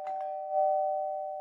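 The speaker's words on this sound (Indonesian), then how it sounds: "Bel pintu." A doorbell gives a clear, steady electronic chime, close and fairly loud, with no voices over it.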